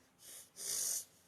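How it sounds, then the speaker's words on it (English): One wheezy, breathy sneeze from a sniffling person, a short intake followed by a louder burst, close and alone. "Sneezing all over the place."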